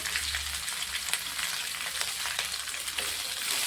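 Chopped capsicum frying in oil in a pan makes a steady close sizzle with crackling and occasional stirring scrapes, and no voices.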